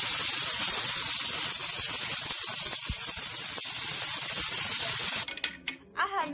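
Half a litre of milk poured into roasted vermicelli in a pan for kheer, giving a steady broad hissing rush for several seconds that cuts off near the end into quieter clinks.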